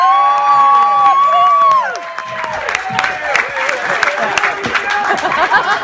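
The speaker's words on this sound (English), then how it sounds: "clap and cheer for Real" An audience claps and cheers, a shrill held cheer and whoops giving way to scattered applause and crowd chatter with voices mixed in.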